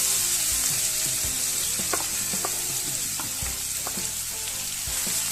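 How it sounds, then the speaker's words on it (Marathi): Chopped onion hits about three ladles of hot oil in a kadhai for anda bhurji, giving a steady, loud sizzle with scattered clinks and scrapes of stirring and no voices. "आता मी कढई घेते तेल तापलेलं आहे तीन पळ्या तेल घेतलेलं आहे मी हा सर्व कांदा आपण टाकून घेऊ"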